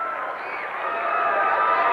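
A high school boys basketball crowd, West Snyder at Upper Dauphin, roars after a slam dunk, with a sustained, swelling cheer filling the gym for two seconds and some voices shouting within it.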